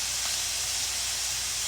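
Steak searing hard in a hot pan, producing a loud, dense and unbroken sizzling hiss that holds steady from start to finish with no voices.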